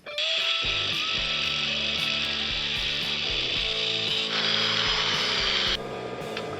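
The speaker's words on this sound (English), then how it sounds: "I just cut 1 1/4 inch off of the tension rod" A power tool cuts a Godspeed tension rod for a 240SX drift car's front end, a loud steady high-pitched whine and grind running continuously for several seconds with no talking.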